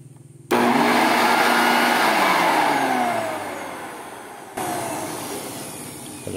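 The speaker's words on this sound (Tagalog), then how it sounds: "So guys, testing natin, nandiyan yung blower natin." An Ozito BLV 2402 electric leaf blower starts with a sudden loud whoosh after a brief quiet moment. Its steady motor roar and airflow hiss sag gradually, then briefly pick up again, with no talking.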